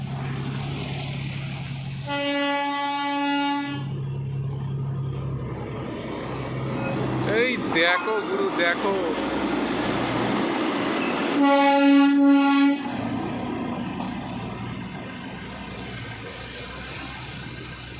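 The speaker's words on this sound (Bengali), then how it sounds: "দেখতে পাচ্ছ পেছনে হোমস্টের অপোজিট দিয়ে দেখো টয় ট্রেন" Darjeeling toy train passing near a homestay, sounding two loud harmonic horn blasts a few seconds long, roughly ten seconds apart, with people talking in between over outdoor rumble.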